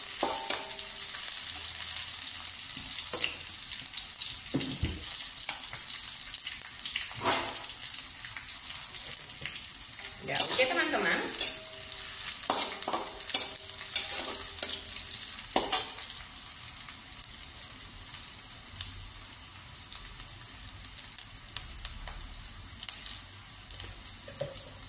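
Red chili peppers frying in a pan of oil for a vegetable stir-fry, a steady close sizzle and crackle with occasional stirring scrapes and utensil knocks, no voices.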